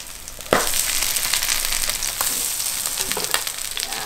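Sweetcorn fritters frying in oil in a pan on the stovetop, a steady close sizzle that jumps louder after a half second and crackles on without pause.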